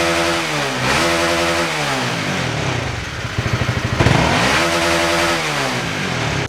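A Honda CBR150R motorcycle engine revs up and down repeatedly, close and loud, rising to a high whine, dropping to a throbbing idle, then climbing again.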